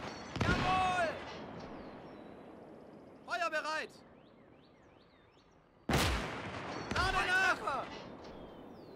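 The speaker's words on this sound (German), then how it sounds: "Schießen wir da auch mal noch einen Bolzen hin hier." A single heavy gunshot rings out in the World War II game Gates of Hell, followed after a pause by a second sharp blast, with bursts of speech between and after the shots.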